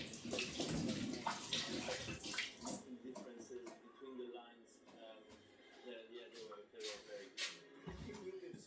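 Fresh mint leaves are rinsed under a running kitchen tap, a steady close hiss of splashing water that fades and returns as the herbs move under the stream. A person talks over part of it.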